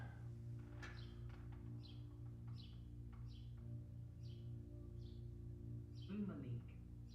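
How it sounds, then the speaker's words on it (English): A bird outdoors sings a series of short, bright chirps at a fairly even rhythm, faint and at a distance over a constant low indoor hum, with a brief voice near the end. "Hear that bird out there today?"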